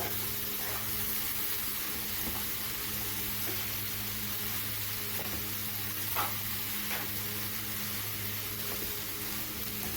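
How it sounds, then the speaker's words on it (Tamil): Cooked rice being stirred and fried for fried rice, with a soft steady sizzle and occasional light scraping stirs, moderately quiet over a constant background hum, with no talk. "ஒரு கையில் சாதத்தை கிண்டிக்கிட்டு இருக்கிறேன் ஃப்ரைட் ரைஸ்க்கு"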